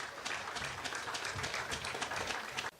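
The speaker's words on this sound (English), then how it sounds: "I want us to give the Social Security Board, the Social Security, a round of applause." A ceremony audience claps steadily, a dense patter of many hands at moderate distance that holds for a few seconds before stopping abruptly; fairly faint overall.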